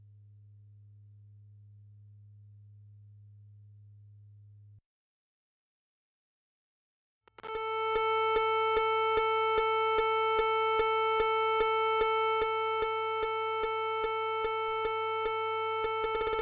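A dual oscillator synth first holds a low, steady hum, then falls silent. It returns as a bright, buzzy, harmonic-rich tone whose timbre a slope generator modulates, pulsing in a fast, regular rhythm until the end.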